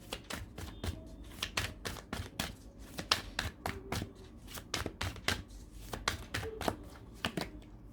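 Tarot cards shuffled by hand in quick repeated riffling bursts, close and crisp, with no talking over them.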